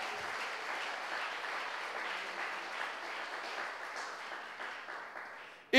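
Steady applause from a church congregation during a sermon, a dense, even wash of many hands clapping that holds for several seconds at moderate distance with no talk.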